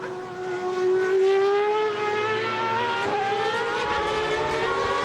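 A 2008 Superleague Formula race car at the Nürburgring during qualifying, its high-pitched engine note climbing steadily as it crosses the finish line, loud and sustained with no other sounds.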